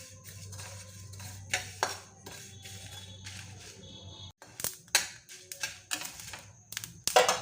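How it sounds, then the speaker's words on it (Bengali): A spatula scrapes and stirs coriander seeds through a dry pan up close, with scattered light clinks and rattles of the seeds shifting against the metal. "দেড় চামচ ধনে দিয়ে দেবো দিয়ে এটা আমি হালকা ভেজে নেব"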